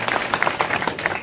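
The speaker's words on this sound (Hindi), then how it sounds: "तालियां बजाकर जिलाध्यक्ष का स्वागत करें हम।" At a political rally, a crowd claps to welcome the district president, a brief burst of close, uneven handclaps in quick irregular rhythm.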